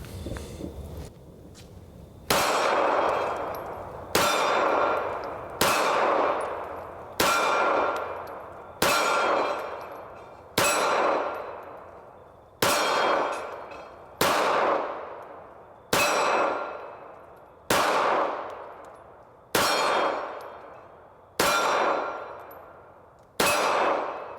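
Hellcat and Sig P365 .380 pistols fire at steel targets, about fifteen sharp shots spaced a second or two apart, each a loud report followed by a ringing metallic clang that decays before the next.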